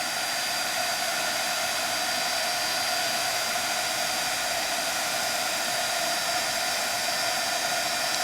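Heat tool blowing hot air to melt embossing powder for a craft project, a constant even whirring hiss, steady and close with no pauses.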